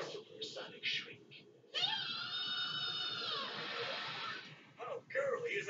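A cartoon supersonic shriek, a long high-pitched wavering scream held for a couple of seconds, loud and alone, with brief shrill vocal bursts before and after it.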